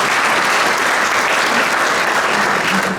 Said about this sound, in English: Let's have a nice round of applause for our